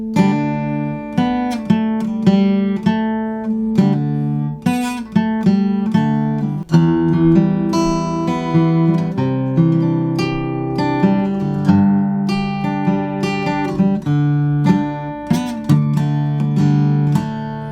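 Close acoustic guitar plays a picked riff, notes ringing one after another, with a faint buzzing on some fretted strings.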